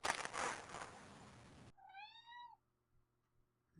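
A domestic cat gives one clear, drawn-out meow close by, following a stretch of loud hockey-game broadcast noise, then the room falls quiet.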